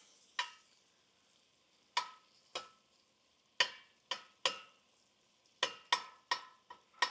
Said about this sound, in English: As soon as that garlic hits the hot oil, it smells so good.